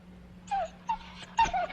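A cute little dog whimpering in short, high, thin whines, four quick plaintive cries close by over a faint background hum, no talk.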